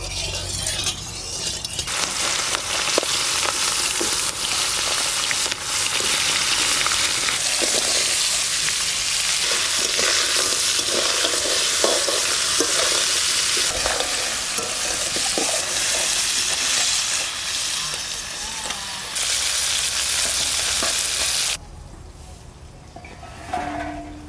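Sundarbans crabs stirred and fried in mustard oil in a pan, with a loud continuous sizzle and gritty scraping and clinking like stones being mixed, carrying on steadily before dropping away near the end.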